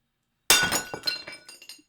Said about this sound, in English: all I could hear was the shattering of my coffee mug as I dropped it